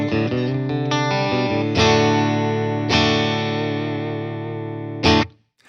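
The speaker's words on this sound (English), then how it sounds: "So instead of having the full humbucker and the middle pickup, now I have 2 single coils going there, so I get more of that classic Strat second position sound." A Fender American Performer Stratocaster electric guitar in the second pickup position, with two single-coil pickups combined, rings out with strummed chords and sustained notes that decay, through an effects-laden amp with chorus and slight distortion, ending in a brief final stab.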